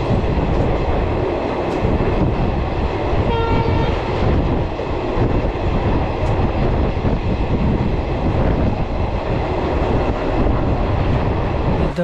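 The Sealdah–Silchar Kanchenjunga Express rumbles along steadily, heard loud from inside a sleeper-class coach, with a short horn blast early on over the continuous roar and rattle of the wheels.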